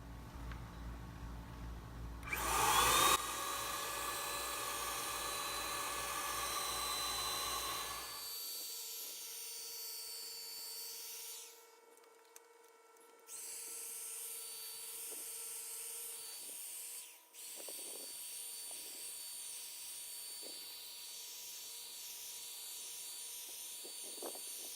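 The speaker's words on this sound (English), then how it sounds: "This is a simple, cheap Wagner 250, a little power sprayer" Wagner 250 electric power paint sprayer spraying outdoors: a loud buzzing, hissing burst for several seconds, then a quieter steady motorized hum with a couple of brief dips.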